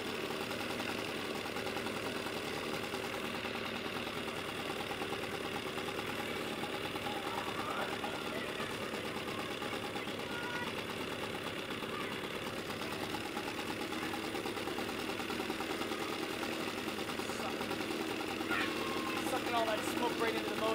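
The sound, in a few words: 1970 Evinrude 25HP outboard motor idling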